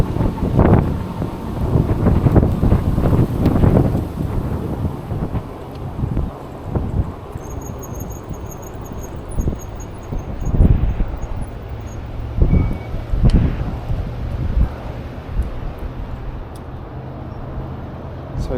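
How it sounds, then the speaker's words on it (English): Strong wind buffets the microphone while riding an eBike through the City of Orange at night: heavy, gusting rumble that rises and falls continuously, loud and close throughout. "It is so freaking windy."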